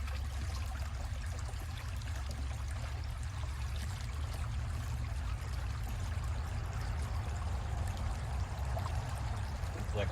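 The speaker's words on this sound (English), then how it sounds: "with the dipper, this is something that you're going to want to rinse out 2 to 3 times with stream water." Stream water pours and trickles steadily while a sampling dipper is rinsed during bacteriological water monitoring, giving a continuous faint splashing flow over a low background rumble with no clear voices.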